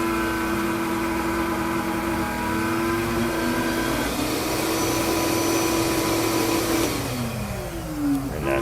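A sandblasting cabinet running with its lid down gives off a steady, loud, close motor-like whine and hiss with a shifting tonal hum, and no talk is heard.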